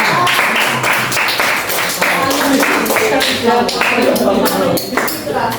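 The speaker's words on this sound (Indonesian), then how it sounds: "Tepuk tangan dulu buat temennya." A classroom of students claps for a classmate during a guided lesson, a dense continuous patter of many hands with voices mixed in throughout.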